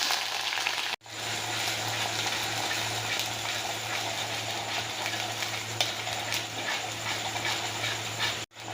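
Mustard seeds, fenugreek and curry leaves hit hot oil in a pan for a shark fish curry, giving a loud continuous sizzle and crackle with one brief break near the start.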